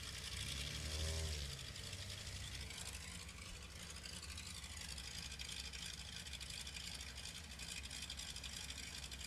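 A de Havilland Beaver's radial engine idles at a STOL competition airfield in Sulphur Springs, Texas, a steady loud rumble with a slight swell near the start that holds throughout.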